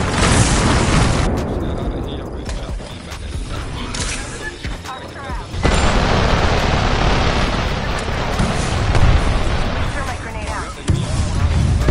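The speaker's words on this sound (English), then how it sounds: "Look out, grenade!" A grenade explosion in the Apex Legends battle royale game, heard as heavy booming blasts and rumble inside loud, dense game noise, with players talking over the action.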